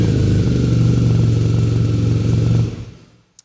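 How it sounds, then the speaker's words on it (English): A BMW R nineT motorcycle engine catches and runs with a loud, steady, close rumble for a couple of seconds, then cuts off abruptly into near silence. "No need to accelerate, you just press and hold until the engine starts"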